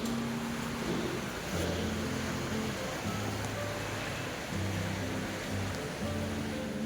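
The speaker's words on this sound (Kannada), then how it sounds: "ಇವಾಗ ಮಳೆ ಬರ್ತಾಯಿದೆ, ಬಿಸಿಲು ಮಳೆ" Sun-shower rain falling steadily outdoors, a continuous broadband hiss of drops with faint low background rumble, no voices.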